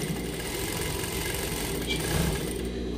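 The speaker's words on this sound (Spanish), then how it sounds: "Cosiendo exactamente al ras de donde llega la pieza." A sewing machine runs steadily while stitching a pocket seam on a garment, a constant close mechanical whir with no pauses.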